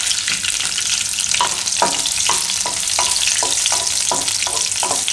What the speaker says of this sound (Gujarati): માખણને આપણે ગરમ થઈ ગયું તો એમાં મરચાં નાખી દેવું.